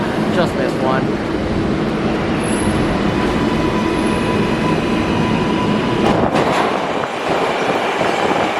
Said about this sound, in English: I waited 5 seconds for this train.